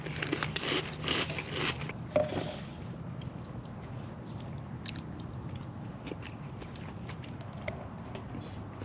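Crunchy Captain Crunch cereal being chewed close to the mouth, a steady run of crisp bites and crunching, louder at first and then softer and continuous, with no talking.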